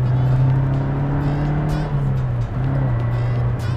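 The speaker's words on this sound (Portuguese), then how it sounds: "ouve-se escape e ouve-se barulho de indução aqui do motor" A 1980s–90s Suzuki Swift GTi hot hatch, heard from inside its lightly insulated cabin, gives a loud, continuous engine drone with a steady low exhaust hum and intake noise while driving.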